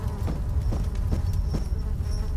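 Buzzing flies in the horror game Amnesia, a continuous droning hum with repeated faint swells over a deep ambient rumble and no voices.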